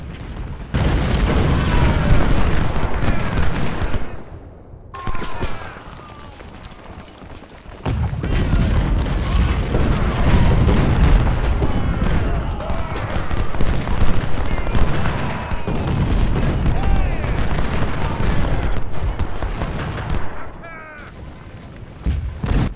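American Civil War cannon and rifle fire in the Ultimate General battle game: a continuous loud din of booms and crackling musketry, with a brief lull around five seconds and near-constant volleys otherwise.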